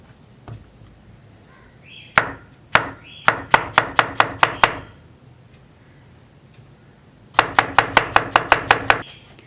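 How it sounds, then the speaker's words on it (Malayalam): Ripe banana sliced with a knife on a cutting board for banana chips: a quick run of about eight crisp, evenly spaced chops, a pause, then a second run of about eight more. Close and clear, with no voices. "ഒരു ചെറിയ തിക്നെസ്സോടുകൂടി കട്ട് ചെയ്തെടുക്കുക"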